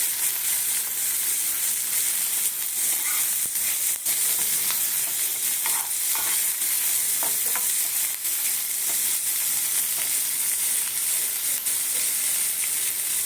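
Tomatoes sizzle steadily in hot oil in a frying pan, stirred now and then while cooking a fish roe curry, with a loud, continuous frying hiss and a few soft scrapes.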